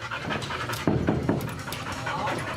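Labrador dog panting close by in quick, rhythmic breaths that continue steadily throughout.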